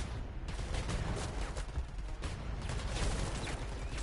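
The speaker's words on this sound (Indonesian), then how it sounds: "Kau dengar bunyi tembak?" Rapid gunfire in the Apex Legends battle royale game, a continuous stream of sharp overlapping shots and bursts that stays loud and dense for the whole stretch, with no talk over it.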